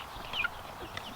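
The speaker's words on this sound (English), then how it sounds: "Oh, hi, chicken." A homestead chicken gives a short, close cluck or two against a steady outdoor background.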